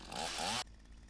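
A chainsaw in Lumberjack Simulator gives a short, loud rasping burst lasting about half a second, then cuts off abruptly, leaving faint background hum.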